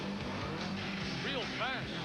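A rally car from the 1999 Rallye Perce Neige in the Subaru Canadian Rally Championship speeds past with a quick, rising and falling engine roar, heard under a voice talking.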